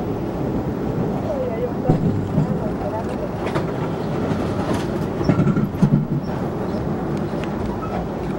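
Amtrak's Capitol Limited passenger train rolls on rails between South Bend, Indiana and Chicago near Indiana Harbor, heard from inside as a constant loud rumble with rhythmic clickety-clack and faint muffled voices.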